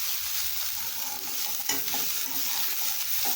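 Tamarind being stir-fried in a hot pan for onion chutney, with a steady close sizzle and the scrape of stirring, no talking.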